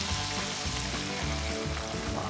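Bull testicles, Rocky Mountain oysters, frying in a pan, giving a steady, loud close-up sizzle with crackling pops that runs throughout, with no voices over it.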